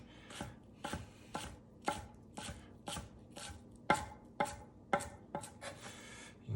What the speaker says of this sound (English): we're just going to come through and do slices or ribbons